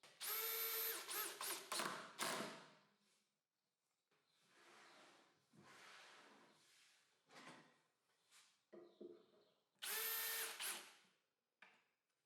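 A power drill drives fasteners into a module of a table saw workstation with a sliding carriage, in several loud whirring bursts separated by quieter handling clatter and pauses.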